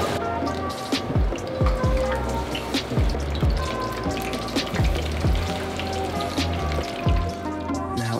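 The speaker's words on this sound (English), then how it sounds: "Before frying, make sure the frying oil is about 350 degrees Fahrenheit and fry them in batches." Gator fritters deep frying in batches in oil at about 350 degrees Fahrenheit, a dense, steady crackling bubble that continues without a break at close range.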